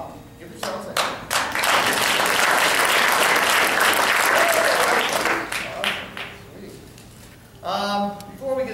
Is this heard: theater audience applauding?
yes